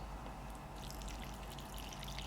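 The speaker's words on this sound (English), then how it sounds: "then you just pour it in the bowl" A stirred mixture is poured into a bowl, a faint soft trickling and dribbling of liquid that runs steadily for a couple of seconds with no voices over it.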